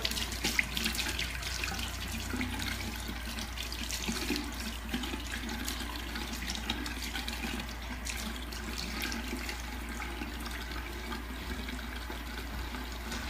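A tap runs in a steady, even stream while historical hair pieces are rinsed clear of powder and pomade, close and continuous for the whole stretch with no talking.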